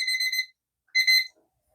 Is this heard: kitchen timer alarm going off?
yes